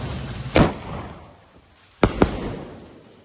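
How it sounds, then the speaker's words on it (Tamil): Diwali firecrackers of the double-shot type explode outdoors: one sharp bang, then about a second and a half later two close, loud cracks in quick succession, with no talking. "இது டபுள் ஷாட் மாதிரி இங்கேயும் வெடிச்சுது, நானையும் போய் ரெண்டு வெடிச்சுது"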